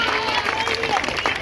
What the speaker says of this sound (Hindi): आप भी जरा ताली बजाइए।